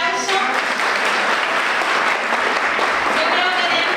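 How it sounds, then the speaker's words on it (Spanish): An audience applauds an award recipient at a psychology panel in the Dominican Republic, sustained dense clapping filling the room, loud and steady, with voices mixed in. "Fuerte el aplauso."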